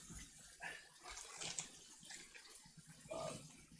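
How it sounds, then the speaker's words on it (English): Warm tap water runs faintly onto a package of bacon being defrosted, a soft steady splashing trickle with a few louder surges, no talking. "So we'll get going with some warm water on this bacon"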